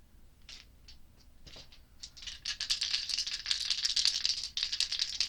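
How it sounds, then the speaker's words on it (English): Tarot dice shaken by hand give a dry, close rattle that starts with a few scattered clicks and builds into a loud, steady clatter. "let's pull some tarot dice"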